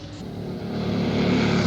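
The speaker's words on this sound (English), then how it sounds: "there's the motorcycle" A motorcycle engine from the 1962 film Lawrence of Arabia drones and swells, growing louder over a short stretch as it approaches, with no one talking.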